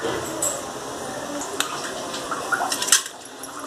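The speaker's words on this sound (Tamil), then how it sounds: "துவரம் பருப்பு ஐம்பது கிராம் ஒரு இருபத்தஞ்சி கிராம் கடலைப்பருப்பு ரெண்டையும் நல்லா வாஷ் பண்ணிடலாம்" Toor dal and chana dal are washed in water, with soft sloshing, dripping and light clinks of a metal vessel, close and fairly quiet, with a few sharper splashes near the end.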